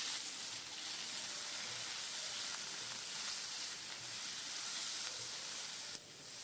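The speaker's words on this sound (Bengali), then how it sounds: "দিয়ে এবার ভালো করে ভাজছি আমি সবজিগুলোকে" Sliced vegetables fry with turmeric and salt in a pan for a Bengali tangra fish curry, making a faint, even, continuous hiss and sizzle with no voices.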